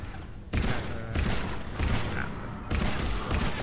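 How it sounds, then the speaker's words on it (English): Gunfire from Mass Effect 3 multiplayer crackles in dense sustained bursts, loud and close, with short breaks between volleys and players chatting underneath. "Wow, good shooting, Dean."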